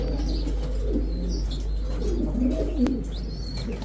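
Red checker racer pigeons coo softly and continuously nearby, with a brief chirp and a flutter of wings partway through.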